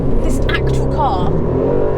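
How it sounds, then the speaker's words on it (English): An Aston Martin DB12 accelerates with a loud, steady engine and exhaust roar that rises in pitch, while someone talks over it. "the exhaust note, oh my god, I could listen to that exhaust all day"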